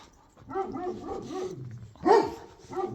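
A Kangal dog barks several times in quick bursts, fairly close, with a louder, sharper bark near the end.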